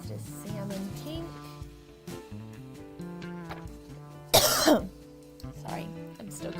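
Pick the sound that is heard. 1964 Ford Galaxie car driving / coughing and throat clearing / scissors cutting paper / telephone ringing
coughing and throat clearing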